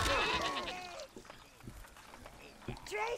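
Sheep bleating in the video game Overlord: Raising Hell, several wavering close bleats at the start and again near the end, with someone talking over them.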